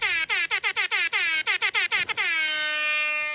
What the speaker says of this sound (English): get behind your friends and scare them with that party air horn sound